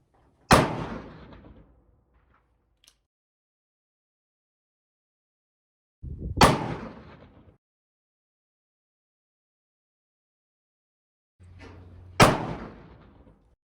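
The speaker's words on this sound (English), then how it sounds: "I just got done shooting 2 3 shot groups out of each of these CVA Paramount muzzleloaders." Three loud rifle shots from a CVA Paramount muzzleloader at an outdoor range, each a sharp crack with a short rolling decay, spaced about six seconds apart with quiet between them.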